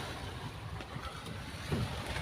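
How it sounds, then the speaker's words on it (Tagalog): Wind and choppy water at sea from a small wooden outrigger boat in the afternoon, a faint, low continuous rumble of gusts and waves with no voices. "Mahangin at maalon pa rin sa laot"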